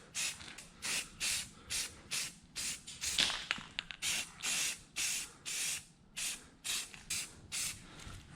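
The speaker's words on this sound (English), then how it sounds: "So give it a quick coat of semi-gloss." Semi-gloss paint sprayed onto a coolant-hose bracket during a K20 engine swap into an EF hatch, a rapid series of short, evenly spaced aerosol bursts, close and crisp with no talking.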